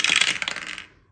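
Dice rolling across a hard surface during a budgeting game, giving a quick rattling clatter of bounces that fades out within about a second, close and alone.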